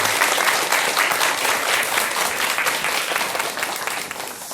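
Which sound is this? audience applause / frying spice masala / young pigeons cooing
audience applause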